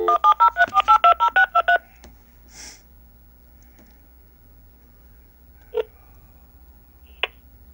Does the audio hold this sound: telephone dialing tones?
yes